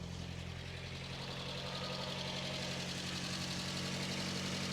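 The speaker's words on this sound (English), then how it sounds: "so we'll put the microphone next to the front of the engine. We can hear the belts, ancillary." A cold 1981 VW Golf GTI engine idles close by, a steady low mechanical hum with the whirr of belts and ancillaries running at the front, even and unbroken throughout.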